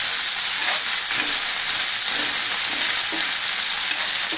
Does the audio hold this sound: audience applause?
no